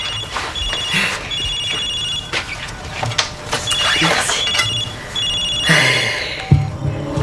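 An old-style telephone bell rings in bursts, repeated several times over the clip, with background noise and a brief voice near the end; it rings at a florist's shop during a French TV series scene.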